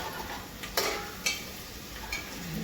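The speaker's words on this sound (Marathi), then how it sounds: "आता कांदा लाल होईपर्यंत जरा फ्राय करून घ्यायचा मस्त" Onion fries in a pan until browned, giving a quiet, steady sizzle broken by a few sharp clinks of a spoon stirring against the pan.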